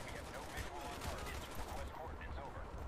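Faint, steady rattle of rapid gunfire from the Call of Duty: Black Ops Hue City defense mission, running continuously in the background while someone talks.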